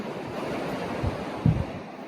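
Sea waves wash onto a foggy beach with the tide coming in, a soft, steady rumble roughened by wind buffeting the microphone. A couple of dull low thumps swell up partway through.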